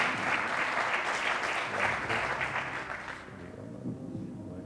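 A studio audience at a TV quiz show claps loudly and steadily, and the applause fades away toward the end.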